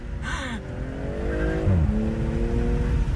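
A BMW M340i spins its rear tires in third gear while drifting on a wet road in the rain, with engine revving and tire hiss heard from inside the car, steady and fairly loud.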